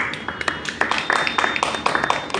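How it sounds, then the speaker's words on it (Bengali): Applause from a seminar audience on stem cell nutrition at Asiatic Center, Banani: dense overlapping hand claps, fairly close and steady, swelling and continuing throughout. "এটা হাততালি দেন নিজেদের"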